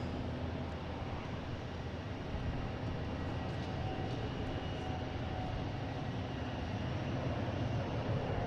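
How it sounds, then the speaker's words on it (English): A Boeing 747-800 jet airliner at Boston Logan airport, heard from a distance as a steady, broad engine roar and rumble that holds level throughout with no talk. "747-800 heading back to Frankfurt."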